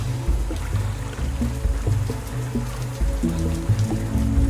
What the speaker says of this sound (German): das ist klar, es regnet halt